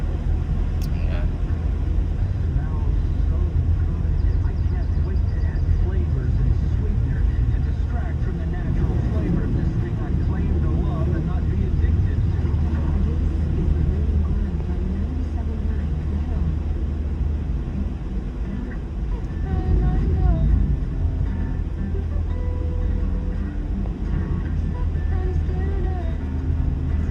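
A car drives on an icy, snow-covered road during a snowstorm in North Carolina, its engine and tyre rumble a steady, loud low drone throughout, with a voice speaking over it.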